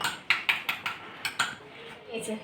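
Spoon or spatula clinking against a dish while mixing a salted food mixture, several quick metallic taps in an irregular rhythm, close and fairly loud, then softer scraping.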